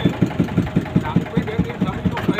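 Motor boat engine chugging on the river beside the Varanasi ghats, a steady rapid pulsing throb that repeats evenly and stays close and fairly loud throughout.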